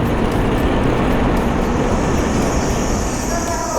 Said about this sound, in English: there's just another train coming in right now